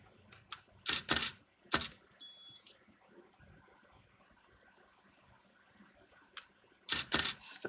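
Camera shutter clicks firing while shooting a focus stack, a few sharp close clicks early on, a long quiet stretch with faint beeps, then another quick cluster of clicks near the end.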